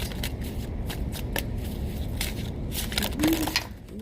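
A deck of tarot cards is shuffled close up, giving rapid papery riffles and flicks in quick bursts, with a faint voice-like murmur near the end.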